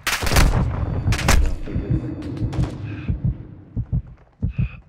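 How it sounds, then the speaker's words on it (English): Gunfire in the Modern Warfare II video game: heavy bursts of shots thud close and loud, then scattered single and double reports trail off, with no voices over them. "I'm taking fire!"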